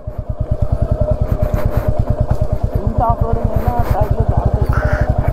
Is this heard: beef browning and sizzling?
no